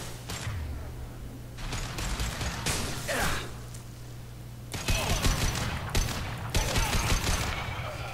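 Gunfire from the video game Mass Effect 2, with bursts and volleys of shots over a steady low hum, growing denser and louder in the second half alongside brief vocal gasps.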